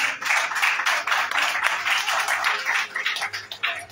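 Church congregation at a Pentecost service in Abobo clapping and acclaiming together, a dense, steady wash of many hands beating with cheering voices mixed in, loud and sustained throughout.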